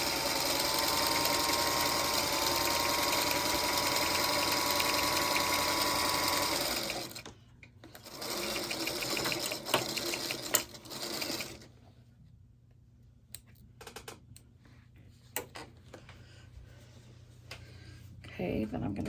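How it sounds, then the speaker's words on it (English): Sewing machine stitching quilt block pieces together, a steady loud whir for about seven seconds, then short bursts and pauses, with soft handling noises in between. "You can just sew these together first."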